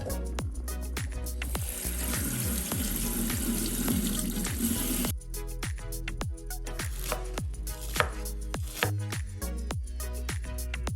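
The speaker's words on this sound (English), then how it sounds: "Let's drain and rinse in cold water to stop the pasta from cooking." Cooked penne pasta drained and rinsed under cold running tap water in a sink, a steady rushing pour for about five seconds, then quieter splashing and clatter over a constant rhythmic music beat.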